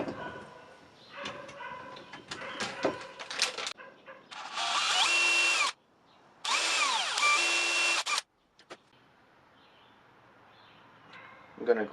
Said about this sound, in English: I'm going to take a 1/16 inch drill bit and make a hole